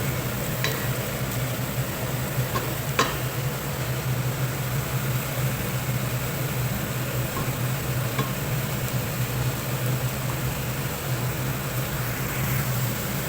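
Onions frying in a pan toward golden brown for chicken biryani, a constant broad hiss of sizzling oil with a low hum underneath and a couple of faint clicks, steady throughout with no talking.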